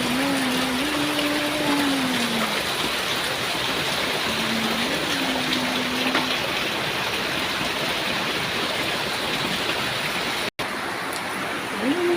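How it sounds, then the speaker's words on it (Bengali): Rainwater runs off brick rubble during a steady downpour, a broad continuous wash of splashing and trickling that stays loud throughout, with a brief lone voice humming or singing faintly underneath. "আসলে হচ্ছে ইটের খোয়ার থেকে পানি যাচ্ছে"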